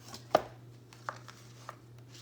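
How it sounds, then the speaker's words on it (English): A paper hole punch pressing through card for a fall pumpkin banner, giving a few sharp isolated clicks and thumps over a low steady hum, close and quiet with no speech. "so you can punch holes"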